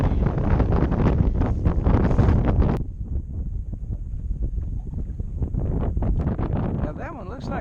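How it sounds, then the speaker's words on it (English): Strong wind blowing across a lake during jug fishing from a boat, thumping and rushing against the microphone close up, easing slightly after a few seconds but staying constant. "Well, our jugs are all set, but there's a lot of wind."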